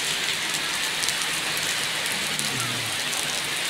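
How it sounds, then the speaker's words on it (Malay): Steady rain pouring down in a constant broadband hiss, close and fairly loud, with no voices. "Pokoknya kan hujan lah, paduga piuh lah. Hujan guys."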